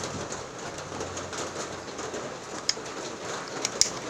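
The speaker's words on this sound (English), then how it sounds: "Rain is here. And it's pretty loud." Rain falls steadily outdoors, a dense, even hiss filling the scene, with a few sharp drips or taps standing out near the end and faint bird calls in the background.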